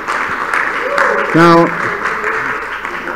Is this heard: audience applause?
yes